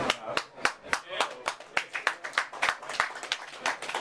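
Audience at a live interview claps in steady, distinct hand claps that ring out close and clear for several seconds, with no talking over them.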